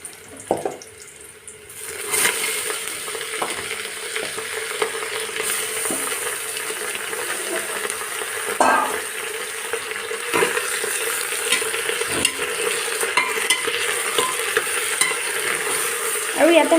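Mutton added to onions already fried in hot oil, setting off a strong, steady sizzle that continues with stirring scrapes and occasional clatter, loud and close, with no talking.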